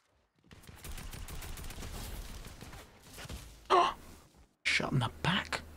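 Bursts of gunfire crackle in a Fortnite gun game match. A steady rattle of shots is followed by sharper separate blasts, and a player's voice gasps and groans over the shooting.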